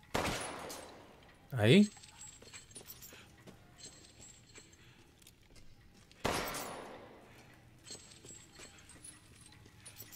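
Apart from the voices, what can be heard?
gunshots in video game Resident Evil Village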